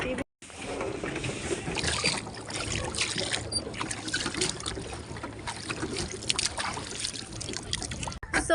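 A paddle boat moves across dam reservoir water with steady splashing and trickling from the paddles, close by and continuous, with faint voices in the background.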